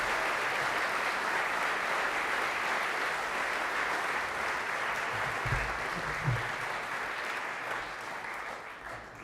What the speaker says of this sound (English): let's have a nice big round of applause for all the staff